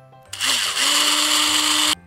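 A power drill with a 2.5 mm bit drills through a plastic part, whirring steadily for under two seconds, rising abruptly and cutting off sharply, with a high, bright motor whine close to the microphone.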